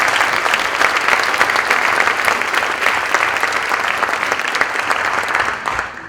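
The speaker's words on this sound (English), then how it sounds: "So give yourselves a round of applause." Sustained applause from an audience at a college fall convocation, a steady dense clatter of many hands that holds level for several seconds before tapering off at the end.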